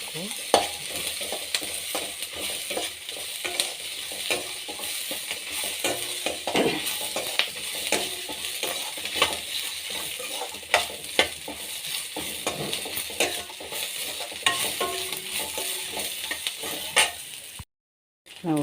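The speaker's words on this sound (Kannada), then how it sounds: "ಎಲ್ಲವನ್ನು ಹಾಕಿ ಚೆನ್ನಾಗಿ ಫ್ರೈ ಮಾಡಬೇಕು ಫ್ರೈ ನೋಡಿ" Onions and other ingredients for tomato chutney frying in a pan with constant sizzling and frequent scraping, clattering stirs, close and fairly loud, running steadily for a long stretch before a brief dropout near the end, no speech.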